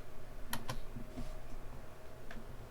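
Keys tapped on a computer keyboard while entering a B550 motherboard search, a few quick clicks near the start and one more later, faint over steady background noise.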